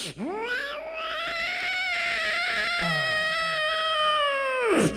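A comedian on stage imitates a cat's yowl, shifting to a changed tone as if another cat has arrived; one long, loud, wavering caterwaul lasting several seconds, alone with no talk.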